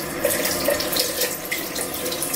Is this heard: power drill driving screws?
no